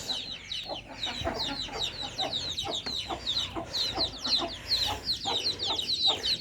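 Hens and freshly hatched chicks in a village farmyard, with ducklings around, keep up a busy stream of high, rapid peeping and clucking close by, steady from start to finish with no talking.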